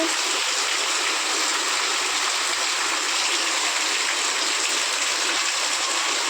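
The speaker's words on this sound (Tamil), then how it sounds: "பாருங்க ஃப்ரெண்ட்ஸ், தண்ணி எப்படி போகுதுன்னு" Rainwater rushes steadily in a continuous, dense flow, close by and unbroken, with no voices.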